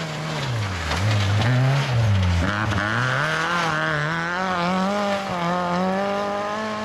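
A rally car charging hard through a Polish Barbórka stage at Białopole, its engine loud and close as it revs, drops through gear changes and pulls up again, with a brief tire squeal.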